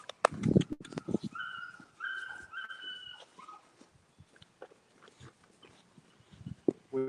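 A young puppy whimpers and yelps close by in high, thin cries, with scattered handling noises and brief rustles around it, and no speech.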